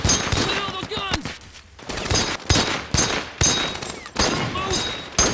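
Rapid bursts of World War II small-arms fire from a film battle scene, with dense overlapping shots and volleys repeating loudly through the whole stretch, mixed with shouted voices.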